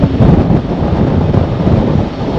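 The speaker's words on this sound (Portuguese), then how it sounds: "Muito vento aqui." Strong wind buffets the microphone on a motorcycle trip through Edinburgh, a steady loud roar of gusty rumble with no voices heard.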